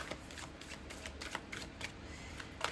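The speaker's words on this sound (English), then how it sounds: "we'll give her a good shuffle" A deck of tarot cards is shuffled up close, a rapid run of papery riffles and slaps repeating in quick bursts, with no speech over it.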